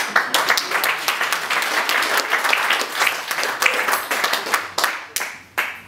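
A theater audience claps for a magic ring trick of solid rings passing through one another, dense applause with a few sharper claps standing out, close and steady, then thinning near the end.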